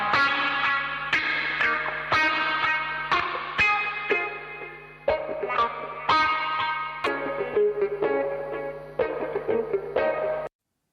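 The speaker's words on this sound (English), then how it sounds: "Now guitar 4 has a compressor on it." An electric guitar run through a compressor and reverb plays a series of plucked notes and chords, each attack smoothed and trailing into a wet, echoing wash, loud and alone.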